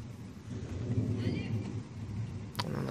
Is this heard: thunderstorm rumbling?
yes